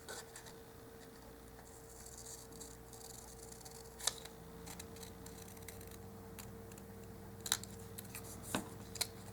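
Scissors snip paper cutouts for miniature dollhouse grocery pieces, faint and close, with scattered sharp clicks over a low background hum.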